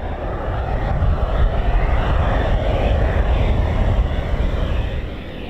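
A Eurofighter Typhoon jet of the RAF flies a holding pattern near RAF Coningsby, its engine noise forming a steady, loud, continuous roar that stays level throughout with no talking.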